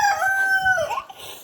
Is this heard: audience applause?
no